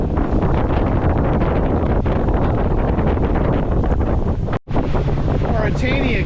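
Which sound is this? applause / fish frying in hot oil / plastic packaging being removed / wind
wind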